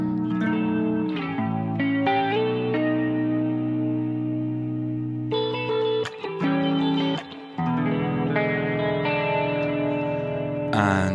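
Sustained electric guitar chords through a BOSS GT-1000 Core, delay feeding reverb plus chorus, ringing out with shimmering chorus, trailing echoes and a wash of reverb, played alone with no talking.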